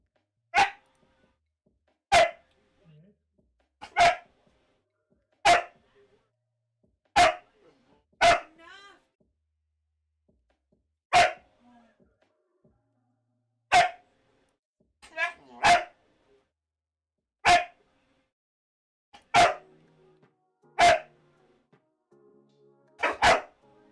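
A dog barks in sharp, evenly spaced single barks, about a dozen over the span, loud and close with quiet gaps between them.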